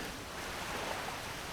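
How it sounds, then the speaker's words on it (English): A waterfall by a lake in the video game Oblivion gives a steady, even rush of falling water that fills the whole moment with no other sounds. "here at this lovely waterfall"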